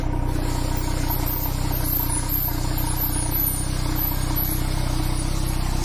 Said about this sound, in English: That exhaust sounds louder than I remember.